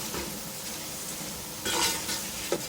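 Whole garam masala spices (bay leaves, black and green cardamom, black peppercorns, cloves) frying in a pot, a steady soft sizzle with a brief swell of stirring and a small clink near the end, close and without talking.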